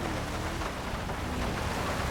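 Rain pours down in GTA 5 during an off-road drive in an Indian vehicle on a slippery road, a steady dense hiss filling the whole stretch with no talk.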